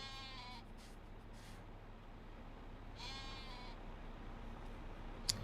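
Sheep bleating at a sheep barn in a farming video game, two clear drawn-out bleats a few seconds apart over a steady low farm hum, with a short click near the end.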